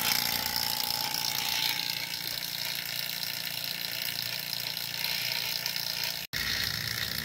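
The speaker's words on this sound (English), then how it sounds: "This is what it sounds like with your little machine going," A small HVAC vacuum pump evacuating mini-split lines runs close by with a steady mechanical whir and rapid rattling pulses, briefly cutting out near the end before resuming.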